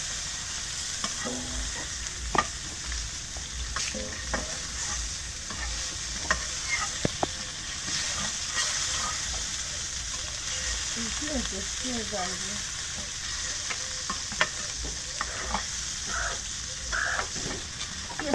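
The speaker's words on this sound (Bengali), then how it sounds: "তেলের মধ্যে ভাজে দিই এই মাছটা" Silver carp frying in hot oil, a steady close sizzle with crackling spits and occasional scraping stirs running throughout without talk.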